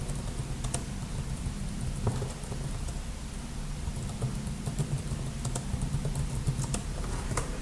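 Fingers tap steadily on a computer keyboard, a soft irregular patter of keystrokes close by over a constant low hum, with no voices.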